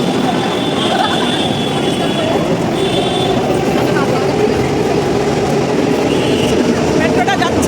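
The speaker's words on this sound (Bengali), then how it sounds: "মেট্রোটা যাচ্ছে আমাদের ছেড়ে দিয়ে।" A Kolkata metro train pulls out of the station with a loud, steady roar and rumble that fills the platform, a few brief high squeals rising over it.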